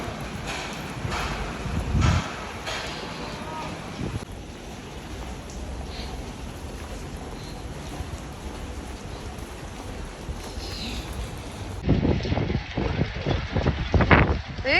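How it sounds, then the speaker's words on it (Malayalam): Heavy rain and gusty wind on a rainy day in Bahrain, a constant hiss of rainfall with wind buffeting the microphone, thuds and splashes growing louder toward the end. "സൂപ്പർ മഴ."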